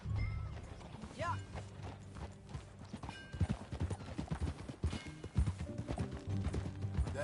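Horse hooves clip-clop steadily while riding in Red Dead Redemption 2, a rhythmic trotting patter under wind and ambient game sound, with a brief whinny-like cry early on.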